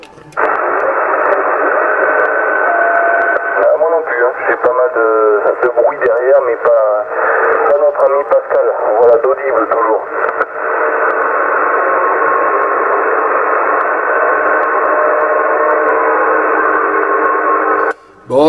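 On a CB radio channel 27 in USB mode, a steady band of hiss and crackling interference fills the whole clip, with garbled, distorted voices warbling through the noise midway.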